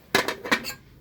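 A cooking pot stirred with a metal utensil, giving three or four quick clanging knocks close by, then quiet.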